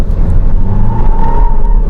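A Jeep Meridian 4x2 automatic SUV engine revs hard with traction control off, a steady low roar and a rising whine, tires briefly scrabbling for grip, loud and close.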